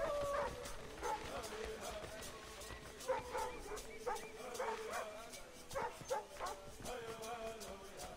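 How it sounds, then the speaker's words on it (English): A dog barks and yips repeatedly in the video game Assassin's Creed 3, short scattered barks over quiet in-game ambience, with a person talking at times. "Oh, doggy wants to play."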